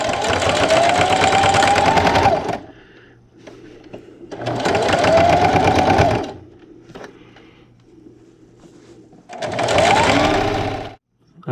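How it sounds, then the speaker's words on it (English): A sewing machine runs in three loud bursts of a couple of seconds each, backstitching along a fabric seam for a dinner plate cozy, with quieter pauses between the runs. "So I'm going to backstitch at the beginning."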